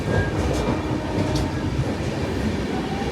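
Continuous loud rumble and rattling heard from inside a moving passenger train, with faint clicks from the wheels running on the rails and no talking.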